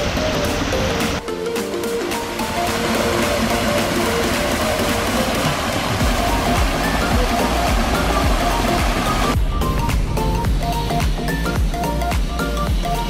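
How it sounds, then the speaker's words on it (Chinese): A small waterfall in Sapporo, Japan, rushes with continuous broadband noise, loud and steady throughout, with some traffic or engine rumble mixed in and no talking. "瀑布，"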